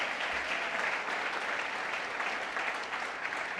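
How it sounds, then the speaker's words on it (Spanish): A church congregation gives a steady, dense round of applause that fills the room without a break. "démosle un aplauso a Jesucristo, que es nuestra ayuda, para gloria de su nombre"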